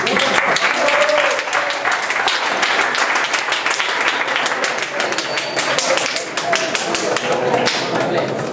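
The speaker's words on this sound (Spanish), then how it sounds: "un fuerte aplauso para ellos" Sustained loud applause from an audience at a Cervantes reading event, dense clapping filling the whole stretch as students are welcomed up, with a few faint voices mixed in.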